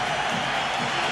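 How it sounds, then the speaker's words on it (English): A packed basketball arena crowd roars to urge on the New York Knicks against the Houston Rockets, a dense steady wall of cheering that stays loud throughout. "And this crowd urging the Knicks on."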